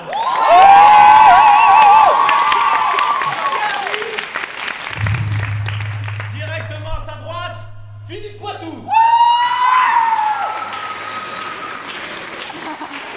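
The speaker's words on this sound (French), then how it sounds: "Je vous demande de chaleureux applaudissements pour Jean Le Sal." Warm applause with cheers and whoops from a live show audience, loud and sustained at first, then easing off as talk and other stage sounds take over, with a brief swell of clapping near the end.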